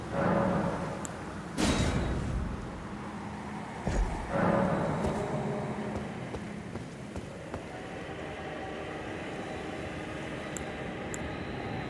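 Ambient soundscape of the Caelid region in the video game Elden Ring: a low, rumbling drone with a few dull thuds and faint high pings, steady and moderately quiet, without speech.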